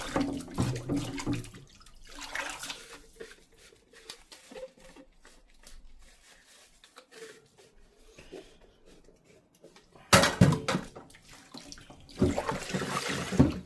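A kitchen tap runs while dishes are washed by hand with lemon-scented Dawn Platinum dish soap, a steady hiss of flowing water and splashing that swells loudly near the end.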